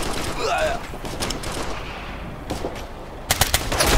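Heavy automatic gunfire rattles through a firefight in the video game Operation Flashpoint: Red River, with rapid bursts and overlapping shots, a sharp cluster near the end, and shouting voices mixed in.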